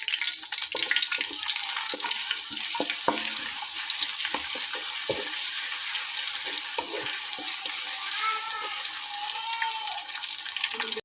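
Chopped onions hit hot soybean oil and fry with a steady, close sizzle and crackle that carries on throughout, with small pops scattered across it.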